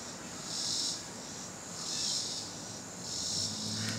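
Crickets chirp steadily on an evening in North Carolina, with the high trilling swelling in three gentle pulses.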